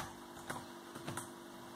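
Computer keyboard typing while making a GIF banner in Canva: a few soft, quiet key clicks in a short irregular run over a faint steady hum.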